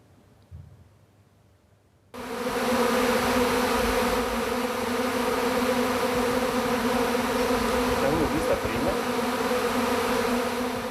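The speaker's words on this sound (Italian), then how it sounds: "Vediamo in diretta l'arrivo di uno sciame, quindi la moltiplicazione di un'arnia" A honeybee swarm arrives at an old barrel hive, its dense, steady buzzing starting abruptly after a quiet moment and holding loud and close throughout.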